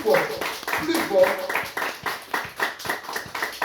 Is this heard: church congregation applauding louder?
yes